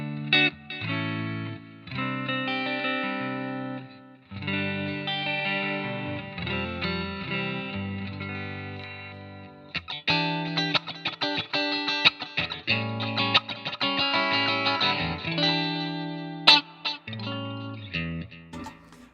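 Electric guitar through a Positive Grid Spark amp set for a bright tone with the low end brought back up, strumming sustained chords and then choppier, busier rhythmic picking with effects and mild distortion, with no talking.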